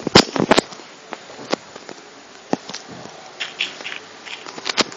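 Sharp crackling pops and sizzles burst in scattered clusters as a video game fire bomb made of glass and gunpowder ignites and burns, close and fairly loud.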